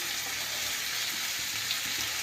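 Spring onion greens frying in a pan over low flame, a constant soft hiss of sizzling oil with faint stirring underneath, close and quiet, no voices.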